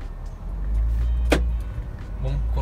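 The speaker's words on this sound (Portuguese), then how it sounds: "Ó, tá de primeira, o carro vai arrancar aqui, ó." Citroën C4 Pallas pulling away in first gear, its engine a steady low rumble that swells slightly as the car moves off, with a brief sharp mechanical click midway and no talking.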